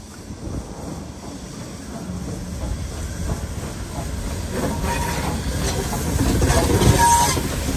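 A train rolls through a station on the Sydney Trains network, tied to the largest operational steam locomotive in the Southern Hemisphere, with a steady rumble and rail clatter that builds gradually louder as it nears.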